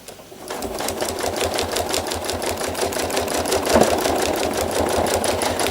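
A sewing machine runs a second pass of stitching around a pale trapunto flower, giving a close, evenly pulsing needle chatter that starts abruptly and continues without a pause.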